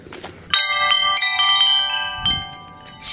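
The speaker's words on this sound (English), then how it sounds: "It's the wind chimes." Wind chimes at a family RV Christmas ring in bright, overlapping metallic tones, struck repeatedly and left to sustain and shimmer, with a soft low thump partway through.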